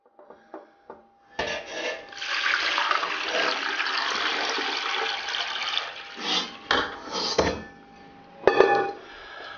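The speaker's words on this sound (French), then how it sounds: "On recouvre d'eau et on met en cuisson." Water is poured into a cooking pot over a salted and peppered beef tongue, a sustained rushing gush after a few light taps, then breaking into shorter splashes and bursts near the end.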